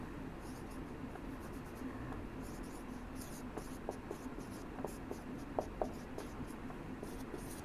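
Chalk or pen scratches out handwriting in short strokes and taps during a science lesson on types of motion, steady soft scraping under a quiet room hum, without speech.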